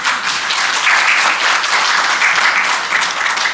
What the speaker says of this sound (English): Let's give our moderator a round of applause.